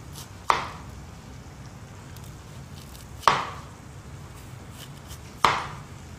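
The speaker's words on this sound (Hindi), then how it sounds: "प्याज हमने काट लिए राउंड" Knife chopping onions into rounds on a board, three sharp isolated thuds spaced a few seconds apart, close and clear over a quiet background, no talking.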